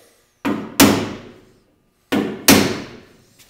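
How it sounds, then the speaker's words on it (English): Metal center punch pounded into a spot weld on a car door panel: two pairs of sharp, ringing hammer strikes, each pair close together, loud and near with decaying ring, no talk. "grab a center punch, get right in the middle of the spot weld, and pound a little hole"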